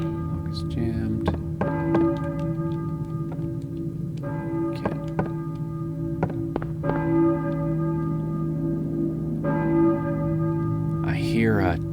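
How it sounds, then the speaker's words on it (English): A church bell tolls repeatedly in the video game Silent Hill, each strike ringing out with a long resonant hum between, along with a few soft taps and knocks. "I hear a church bell, maybe? Who is ringing the bell?"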